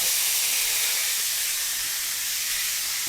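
Beef tips searing in a hot pan give a steady, bright hiss and sizzle that runs unbroken and fairly close for the whole stretch, with no talking over it.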